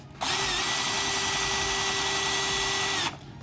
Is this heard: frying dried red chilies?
no